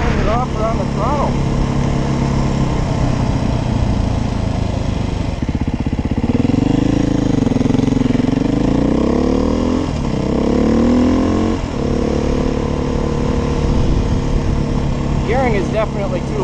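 A 2021 Beta 430 RR-S dirt bike engine runs steadily while riding, with a rising and falling throttle around the middle and a continuous loud drone throughout, under faint talk.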